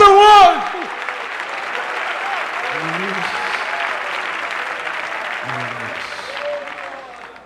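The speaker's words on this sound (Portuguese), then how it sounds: "Se você crê nisso, aplauda o Senhor" A church congregation applauds with a sustained wash of clapping that follows a brief voice at the start and continues steadily for several seconds, with some voices heard faintly underneath.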